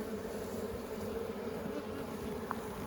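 Honeybees buzzing around an open hive frame with larvae cells, a steady low drone at moderate distance with no talk over it.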